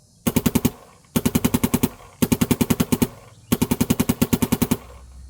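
An MXR paintball marker, freshly fitted with a new bolt guide transfer channel O-ring, fires four loud, close strings of rapid shots, each burst about eight to ten rounds, separated by brief pauses.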